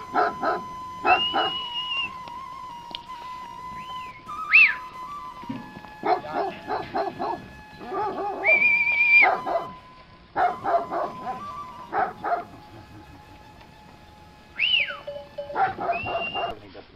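Dogs near a sheep dairy in the mountain meadows bark in scattered bursts, some sharp and close, others higher yips and whines, separated by quiet gaps, with faint tonal calls in the background.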